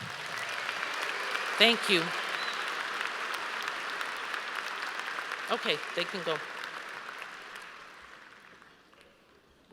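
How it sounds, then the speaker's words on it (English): Audience applause fills a high school graduation ceremony, steady broadband clapping throughout that fades out toward the end, with brief spoken words from a voice over it. "let's give him one round of applause"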